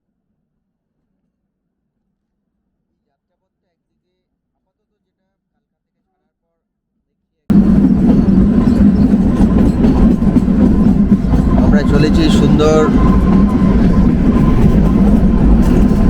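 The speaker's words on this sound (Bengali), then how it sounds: "একটা মনোমুগ্ধকর পরিবেশের মধ্যে দিয়ে টয় ট্রেনে যাত্রা" Kalka–Shimla toy train, the Shivalik Express, running through the Himachal hills: a silent stretch, then a sudden loud, continuous rattle and rumble of the carriages with a voice speaking over it.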